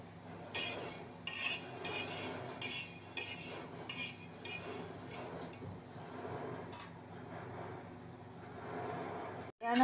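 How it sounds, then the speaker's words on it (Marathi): Fenugreek seeds, cloves and black pepper dry-roasting on a griddle, with a spoon or spatula scraping and clinking against the metal in a steady irregular rhythm, close by, without talk. "आपण मेथी दाणे, लवंगा, काळी मिरी तव्यावर छानपैकी भाजून घेत आहोत."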